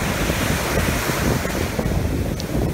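Strong ocean surf at Ocean City beach, a dense, continuous roar of breaking waves mixed with wind buffeting the microphone, loud and close, with no voices.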